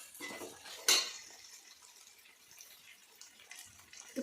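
Utensil scraping and clinking in a pot as chicken curry ingredients are stirred and mixed, with one sharp metallic clank near the start followed by quieter, steady scraping and faint rustle.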